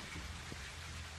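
Brief, faint, steady rain from the video game The Walking Dead: 400 Days, a soft continuous hiss over a low rumble.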